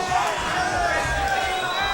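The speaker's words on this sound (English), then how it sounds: "The crowd is yelling" Spectators yelling and cheering at a Super Smash Bros 64 top-eight tournament match, a dense, steady roar of crowd noise with mixed shouts throughout.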